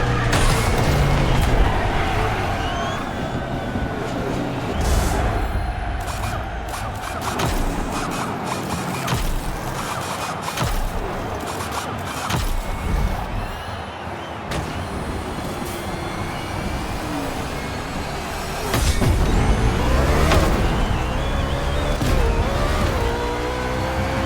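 NASCAR race cars in the video game The Crew Motorfest, engines roaring loudly and without a break, with whooshing pass-bys and a swell of louder engine noise near the end.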